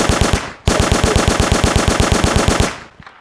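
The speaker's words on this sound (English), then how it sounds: "He's got an MG out the window." Rapid machine gun bursts from a window position in the World War II shooter Vanguard: Normandy 1944, a loud, steady stream of shots with a brief gap near the start, then a long continuous burst that fades out.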